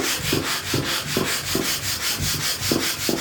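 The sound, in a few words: lightly sanding guitar neck wood with 120 grit sandpaper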